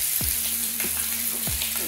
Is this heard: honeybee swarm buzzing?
no